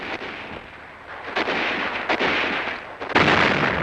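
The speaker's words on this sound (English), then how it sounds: "A well-hidden machine gun opens up on our troops moving into Glesch." Machine gun fire from a World War Two newsreel as troops move into a town on the road to Cologne: loud bursts of gunfire with sharp onsets, recurring every second or so over a rough, noisy background.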